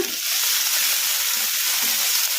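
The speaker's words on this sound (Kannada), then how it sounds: "Tomato ಮೆತ್ತಗಾಗೋವರೆಗೂ fry ಮಾಡ್ಕೊಂಬಿಡೋಣ." Chopped tomatoes fry in a spoonful of oil over medium flame, giving a steady, close, hissing sizzle that carries on unbroken.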